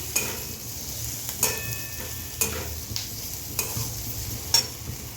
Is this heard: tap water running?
no